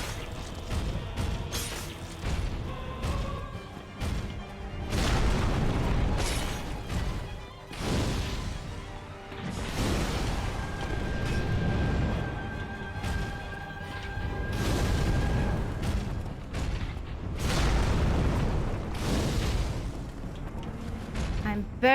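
Fire attacks crackle and burst against an enemy in Dark Souls, with repeated heavy crashes and booming impacts rising and falling over a rumbling background for the whole stretch.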